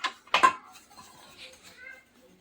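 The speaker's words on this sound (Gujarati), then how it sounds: "હું એક સાથે બંને પ્લેટ મૂકીશ" Two oil-greased steel idli plates are set down together, giving a quick pair of bright metallic clinks at the start, then faint scraping rattles that fade to quiet.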